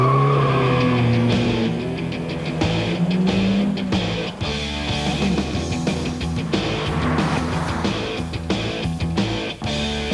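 A 1992 Nissan 100NX T-Bar accelerating, its engine a loud continuous drone with rising and shifting tones that fills the whole stretch, close and unbroken.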